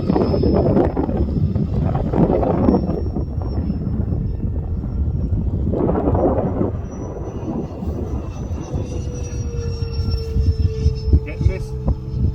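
Gusting wind buffets the microphone outdoors on a bitterly cold, windy day at a model jet flying field, a heavy rumble with a small turbine whine passing overhead while people talk nearby.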